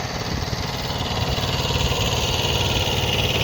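A Kubota B5001 mini tractor engine runs steadily and loud at close range while the tractor drives across a field, a continuous throbbing drone with no voices over it.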